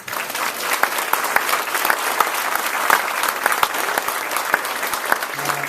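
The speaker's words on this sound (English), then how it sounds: "Let's give them a round of applause." Steady applause from a crowd at a school grade promotion ceremony, many hands clapping continuously at a fairly loud level.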